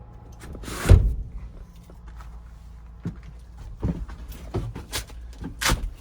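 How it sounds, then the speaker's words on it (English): Sliding door on a 2014 Chevy Express 4500 box truck opening to the cargo space, a sharp clunk of the door near the start, then scattered latch knocks and metallic rattles from close by. "And here is the sliding door that passes through"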